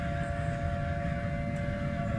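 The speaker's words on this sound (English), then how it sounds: "Now we can hear a siren." A siren wails in a steady, continuous tone, loud and unbroken throughout, with no talking over it.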